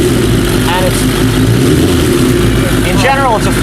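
A motorcycle engine fitted with a CV carburetor idles at around 1,500 to 1,800 rpm, a loud steady low rumble running throughout while someone talks over it.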